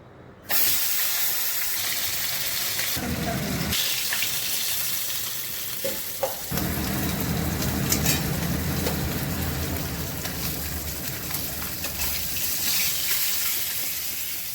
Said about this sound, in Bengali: প্রথমেই আমি মাছগুলো ভেজে নিচ্ছি।